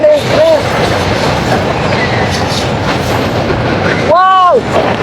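A train rolls loudly across the Hardinge Bridge over the Padma river, its steady rumble and clatter filling the whole stretch while a sharp horn blast sounds twice, briefly at the start and again near the end.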